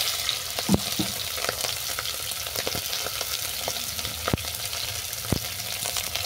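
Prawns sizzle in hot mustard oil in a home kitchen pan, a steady close hiss of frying broken by occasional clinks and scraping stirs.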